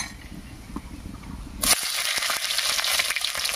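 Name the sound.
green chillies frying in a pan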